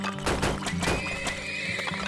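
Horses neighing in the oil-drilling game Turmoil, a loud whinny with clip-clop hoof sounds, close and clear over a steady low game hum.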